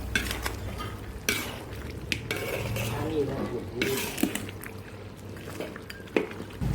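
Spoon stirring coconut milk with chicken curry paste in a pan for Thai kaeng khua kai, steady frying sizzle under repeated scraping strokes and occasional clinks, close and continuous.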